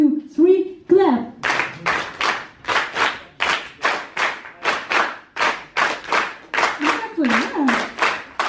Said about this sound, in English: Okay, 1, 2, 3, clap.